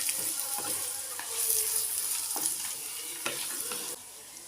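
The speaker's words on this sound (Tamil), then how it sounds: "தேங்காய் சேர்த்த பிறகு ஒரு 2 நிமிஷம் லைட்டாக வதக்கி விட்டால் போதும்." Garlic, coconut and pirandai sauté in a pan with rock salt, giving a steady, close sizzle broken by several scraping stirs of a spoon.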